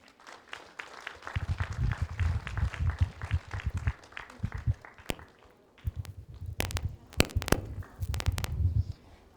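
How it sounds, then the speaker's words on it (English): Applause for students at a Muslim heritage festival opening ceremony. A modest audience claps in uneven bursts with pauses between them, and a few sharp, isolated claps stand out. "So please give them a round of applause."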